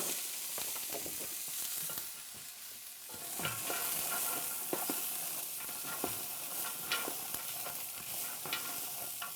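Carrots and celery sizzle in hot sesame oil in a pot for an Asian vegetable soup, a soft, steady frying hiss broken by scattered clicks and scrapes of stirring, with no talking.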